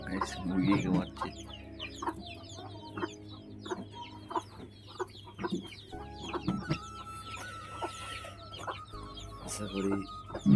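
Hens cluck steadily in a coop shared with pigeons, with scattered calls from several birds at moderate distance and faint background activity throughout.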